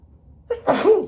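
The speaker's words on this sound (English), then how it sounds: "I'm gonna sneeze, hang on." A single sharp sneeze, close and loud, with a quick intake of breath just before it.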